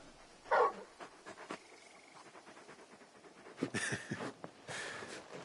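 A large dog in Final Fantasy XVI whimpering and panting softly, with a few brief yelps and scuffing movements, fairly quiet and close, with no talk over it.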